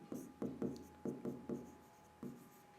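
Chalk or marker strokes on a classroom board, about eight short scratchy taps and rubs in an uneven rhythm, close and fairly quiet with no talking.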